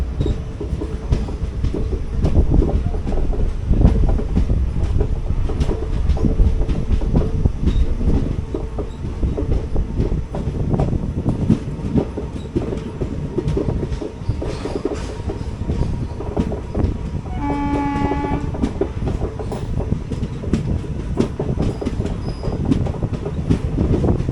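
A Chennai–Palakkad Superfast train pulls out of Oddanchatram station, heard from inside a 3-tier AC coach: a steady, loud rumble with rhythmic wheel clatter, creaks and a brief squeal or horn partway through.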